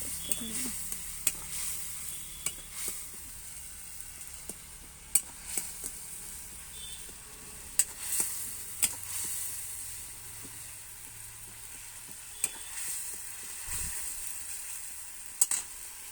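Spices sautéing in a pan with a little water added, stirred steadily: a soft continuous sizzle and hiss with scattered light scraping clicks of the spoon against the pan, fairly quiet and close.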